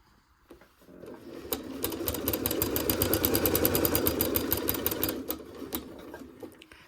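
A sewing machine stitches a fabric heart mug rug in a brief back stitch, then a long steady run down the seam, close and loud with a fast rhythmic needle clatter, stopping near the end.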